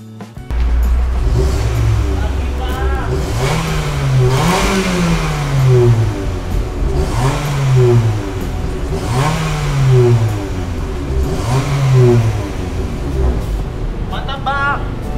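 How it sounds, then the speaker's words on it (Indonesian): Mitsubishi Xpander with a twin-muffler exhaust revved repeatedly from idle: about five rising and falling blips spaced a few seconds apart, each a loud throaty swell over a steady idle rumble, recorded close by. "Langsung aja juga ini knalpotnya, yang twin muffler"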